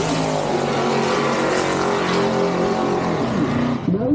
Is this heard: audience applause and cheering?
no